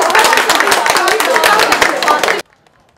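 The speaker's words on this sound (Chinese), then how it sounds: "社区居民开心的鼓掌叫好" Community residents of a hillside neighborhood clap and cheer as water arrives after days of drought, a dense burst of applause and shouts that stops abruptly, leaving near silence.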